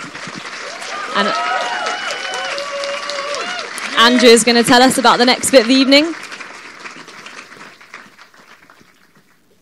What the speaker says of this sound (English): Let's give Nikki a round of applause.